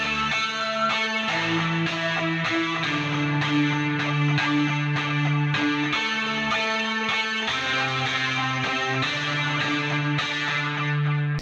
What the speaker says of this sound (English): And then I got another preset from Omnisphere, PRS Lead Guitar 8.